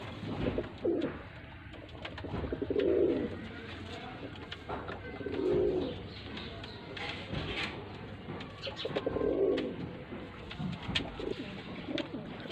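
Breeder pair of pigeons, a male and a female, cooing in repeated soft throaty bursts at a moderate distance, with steady background noise between calls.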